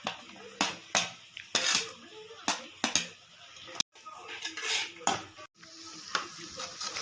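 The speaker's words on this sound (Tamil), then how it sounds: "ஒரு 1 minute ஆனியன், கேபேஜ், கேரட் எல்லாம் வதக்கணும்" Onion, cabbage and carrot sauté in a pan while a spoon scrapes and clatters against the metal, giving irregular sharp knocks over a soft sizzle.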